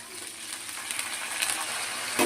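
Peanuts, cumin, green chilies and curry leaves fry in hot oil for a crispy poha mixture, giving a steady close sizzle with brief crackling bursts and a stirring scrape near the end.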